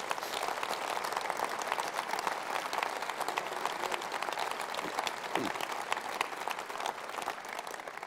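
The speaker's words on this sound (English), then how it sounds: "Give them all a round of applause." Steady applause from a large audience at a Conservative Party conference speech by William Hague, a dense wash of clapping that holds at an even level throughout without pause.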